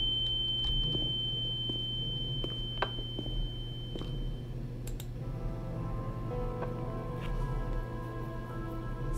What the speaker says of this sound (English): Oh gosh, and the ringing.